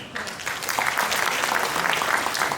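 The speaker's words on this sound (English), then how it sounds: "another round of applause, please." A hall audience at an international academic conference in Seoul commemorating the 1988 Olympics applauds, with brisk, dense clapping that swells quickly and holds steady for a couple of seconds.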